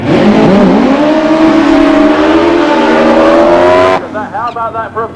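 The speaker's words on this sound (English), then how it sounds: "Side by side rolling burnouts from these two top fuel bikes." Two top fuel drag bikes do side by side rolling burnouts at a drag strip, a loud howling engine roar with rising, warbling tones that cuts off sharply into fainter, pulsing revs.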